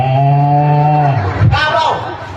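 A person imitates a cow, giving one long, loud, drawn-out moo followed by a shorter rising moo, close by with no other talk.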